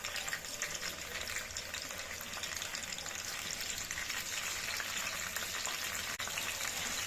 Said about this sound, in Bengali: চিকেন চাপে ম্যারিনেশনের জন্য মশলাটা ভাজবো। প্রথমে দিলাম গোটা গরম মশলা, তারপরে দেব পেঁয়াজ, রসুন আর আদা